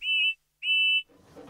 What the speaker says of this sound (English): Then he heard a loud whistle. It was George the steamroller.